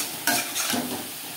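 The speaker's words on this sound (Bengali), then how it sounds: "বেগুনের সাথে মশলা ও লবণ হলুদ বেশ ভালো করে মিক্স করে দেবো।" Brinjal fried in a pan with spices, salt and turmeric, stirred in two quick scrapes over a soft steady sizzle, close and quiet, no talk.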